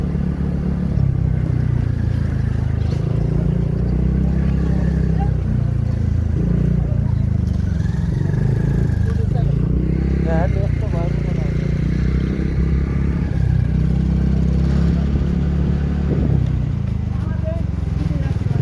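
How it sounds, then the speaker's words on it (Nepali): A motorcycle engine droning steadily while riding on a road trip from Setibeni to Purtighat, a loud continuous low hum with wind rumble, and voices talking over it. "बाइक पड्काउँदै आउनु मजा आउँछ"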